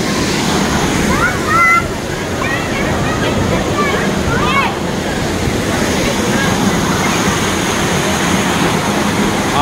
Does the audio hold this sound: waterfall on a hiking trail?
yes